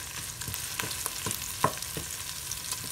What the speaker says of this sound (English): take my wooden spoon, just let it fry a little bit.